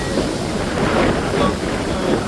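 Wind roars in gusts against the microphone in rainy hills near waterfalls, a dense rumbling buffet with no clear pauses.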